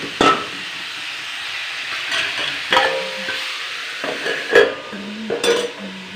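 Vegetables stirred quickly in a pan on a gas stove, with scattered scraping knocks of a spoon over a steady sizzling hiss, close and fairly loud, no talking.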